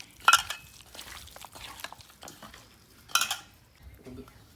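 Chicken is mixed by hand with oil and spices in a bowl, with a few sharp clinks against the bowl among soft squelching and rustling, close and moderately loud, with faint voice in the background.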